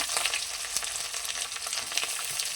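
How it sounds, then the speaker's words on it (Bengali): Chopped onion and garlic fry in a pan, giving a dense, steady crackling sizzle with small pops and occasional stirring scrapes, close and continuous with no voices. "পেঁয়াজ কুচি রসুনটা ভালো করে লাল লাল মতন ভাগ করে ভেজে নিতে হবে"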